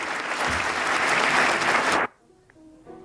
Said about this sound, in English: They do eventually clap.